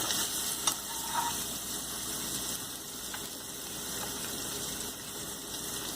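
Mixed vegetables with turmeric and red chili powder being stirred in a hot pan, a steady close sizzle with occasional scraping of the spoon, and no talking.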